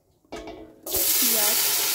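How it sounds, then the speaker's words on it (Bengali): Dried red chillies and bay leaves hit hot oil as a tempering for a mutton curry; after a brief quiet moment, a loud, close, steady sizzle suddenly takes over. "এখন তেলটা আমার গরম হয়ে গেছে। এখন আমি দিয়ে দেবো এর মধ্যে শুকনো লঙ্কা, তেজপাতা, ফোড়ন।"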